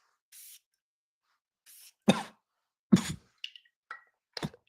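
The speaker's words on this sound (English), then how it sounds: "I'm spraying this one on" Two short, soft spray bursts from an atomizer, spaced apart, followed by a few quiet sniffs and breaths nearby.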